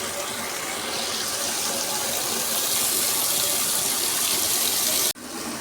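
Water gushes steadily from a tap into a basin for soaking a cotton saree, a loud continuous splashing rush that cuts off abruptly near the end.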